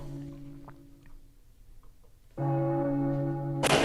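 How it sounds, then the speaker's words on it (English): Faint ringing tone early, then a loud sustained bell ring with rich overtones swells in near the end, ringing steadily with no talk. "Gotta get the church bells."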